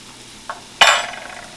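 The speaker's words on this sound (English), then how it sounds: "I'm going to put some of this meat in my pan right here" Ground meat hits a hot frying pan with a soft tap, then a sharp bright sizzle that bursts up and slowly fades. The sound is close and clear with no talking.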